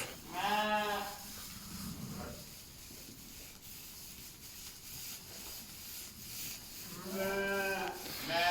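A 9-10 month old male Suffolk lamb bleats loudly nearby, pauses through a stretch of quiet rustling, then bleats again, its wavering cry repeating at the end.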